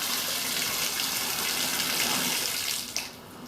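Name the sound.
water running into a slowly draining condo bathtub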